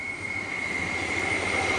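A train rolls through Swiss meadows as a steady rumble that holds level throughout, with a thin high whine riding above it and no voices.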